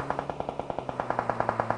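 Rapid gunfire from a pistol in PUBG on the Erangel map during a tournament match, a steady burst of evenly spaced shots, close and sharp, with no speech.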